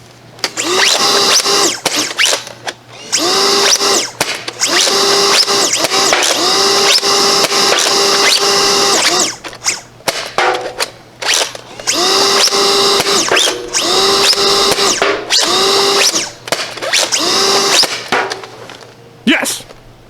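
Helios blaster prop fitted with a pump kit, running in repeated bursts of motor whine and mechanical whir with short pauses between them, loud and close.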